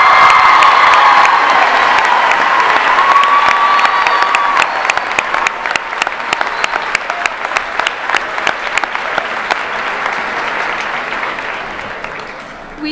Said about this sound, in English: Please give another round of applause to Ms. Lizama, as this is sadly her last year teaching at MVHS.